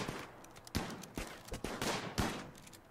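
Colonists firing guns in the video game Rimworld, a quiet stream of sharp, distant gunshot cracks in scattered bursts about every half second across three seconds.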